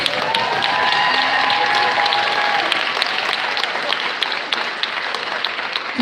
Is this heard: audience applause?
yes